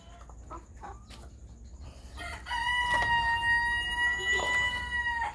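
Brahma chickens in a farmyard, a rooster crowing loudly and close over scattered clucks from the hens.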